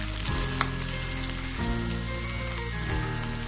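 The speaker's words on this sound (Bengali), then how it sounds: "রসুনটাকে আমি একটু কষিয়ে দিচ্ছি, ভেজে নিচ্ছি রসুনটাকে।" Garlic frying in oil in a pan for a spicy shol (snakehead) fish bhuna: a close, steady crackling sizzle continues throughout with a low constant hum behind it.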